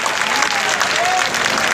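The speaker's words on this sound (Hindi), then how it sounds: "एक बार जोरदार ताली" Loud, dense applause from a protest crowd at Jantar Mantar, steady clapping filling the whole short stretch with faint murmuring mixed in.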